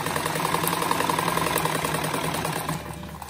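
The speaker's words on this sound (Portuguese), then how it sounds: "Vou costurar mais até aqui no meio" A sewing machine runs steadily while stitching a pillow, a continuous close whirring hum with rapid needle chatter that eases slightly toward the end.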